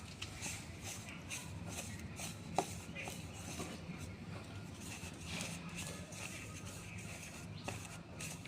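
White pulao rice is mixed by hand into fish bait, making soft repeated squelching, rubbing and patting sounds in a steady rhythm up close, with a few sharper taps.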